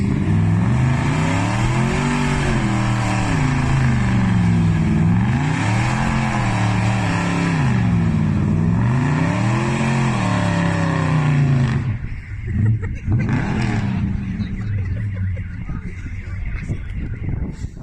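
A 1969 Chrysler 300 with a 440 V8 engine revving loudly nearby, four rhythmic rising and falling blips of throaty exhaust over about twelve seconds, then dropping to a quieter idle rumble with scattered noise.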